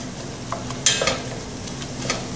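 Mushrooms fry in a pan with Cajun seasoning, a steady close sizzle with a few soft stirring scrapes and clicks over it, and no talk.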